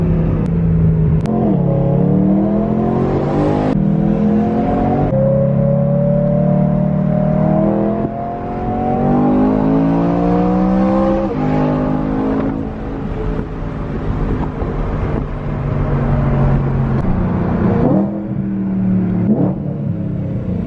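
Lamborghini SVJ with a Gintani F1 exhaust revving repeatedly, loud rising and falling wails with sharp throttle blips, close and dominant with no talk.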